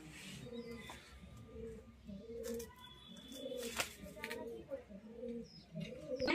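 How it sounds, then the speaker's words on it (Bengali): Giribaz pigeons coo close by in soft, repeated low calls at an even rhythm, with occasional chirps and faint background noise. "এটা গিরিবাজ পায়রা প্রচুর ভালো উড়ান ওড়ে"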